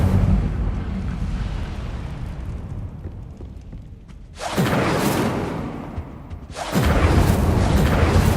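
Incendio fire spells cast in the video game Hogwarts Legacy, two loud bursting whooshes of flame that flare suddenly and sustain over a low rumbling game background.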